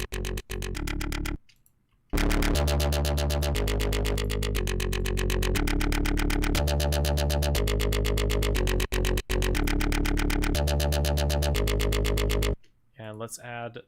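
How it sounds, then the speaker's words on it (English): Video game music with a heavy distortion effect, a dense, gritty, rhythmic synth pattern that plays loud and continuous for about ten seconds between brief pauses and short clicks. "Gotta add distortion."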